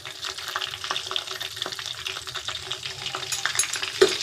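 Chana dal, mustard seeds and chopped green chillies frying in hot oil for cashew upma, a dense steady sizzle with crackling pops and a sharper spit near the end, close up and without talk.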